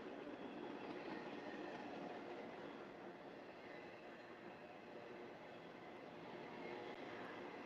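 A train rumbles past at the beach in Mukilteo, Washington, with a steady, broadband roar and faint rhythmic clatter of wheels, fairly distant, with no voices.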